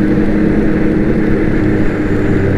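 A snowmobile engine drones loud and steady while riding a bumpy, narrow trail, a continuous close motor roar with slight wavering and no speech.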